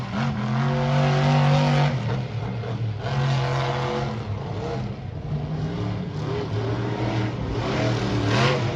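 A monster truck engine roars without a break at an outdoor monster truck show, loud and near, with the revs rising and falling as the truck works the course.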